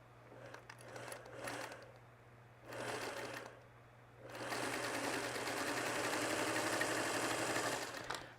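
A sewing machine stitches a diagonal seam across mini-charm fabric squares, running in two short bursts and then one long steady run, close and fairly quiet with a low hum underneath.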